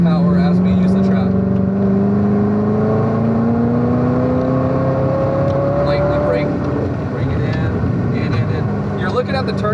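A Chevrolet Corvette C7 ZR1 on a racing school circuit pulls hard, its engine tone climbing steadily in pitch under acceleration, loud and continuous, while an instructor talks over it.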